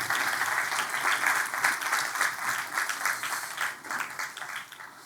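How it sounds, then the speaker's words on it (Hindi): A church congregation applauds steadily to welcome first-time visitors, with continuous, moderately loud clapping from many hands filling the room throughout. "तालियों के साथ उनका स्वागत करें"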